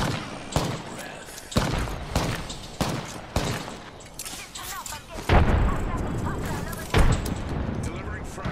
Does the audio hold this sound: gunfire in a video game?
yes